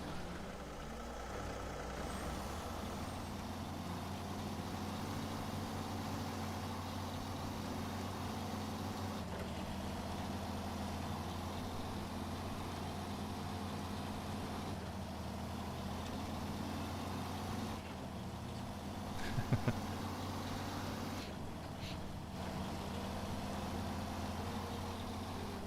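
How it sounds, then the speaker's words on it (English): A truck engine in the video game Snowrunner drones steadily as the vehicle drives down a road, a low continuous rumble held at a constant level with a faint brief knock near the end. "Drive my little truck down the road."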